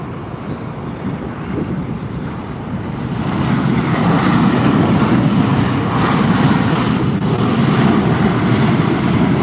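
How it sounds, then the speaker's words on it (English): A Delta airliner landing at Las Vegas Harry Reid Airport roars loudly as its engines go into reverse thrust, a broad steady rumble that swells after a few seconds and holds, buffeted by wind noise. "As that one slows down, reverses thrust, it throws on the brakes."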